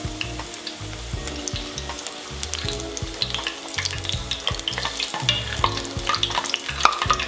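Zucchini blossoms deep frying in oil held at 325 to 350 degrees, giving a steady close crackling sizzle with scattered sharp pops over a low continuous bubbling, no voices.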